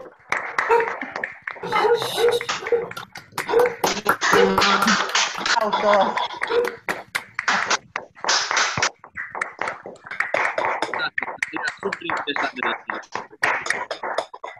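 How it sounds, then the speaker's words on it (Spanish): Applause from participants unmuting their microphones on an online talk, uneven bursts of clapping from several separate sources overlapping and breaking up, with voices talking throughout. "No sé si chicos quieren abrir el micrófono para aplaudir a Andrea."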